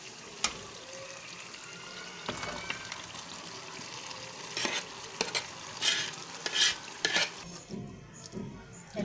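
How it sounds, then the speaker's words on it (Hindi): Boiled chana dal being stirred and mixed in a pan with spices, close scraping and clattering of a spoon in bursts over a soft sizzle, louder toward the end, with no voices. "अच्छे से मिक्स कर लिया हमने दाल को।"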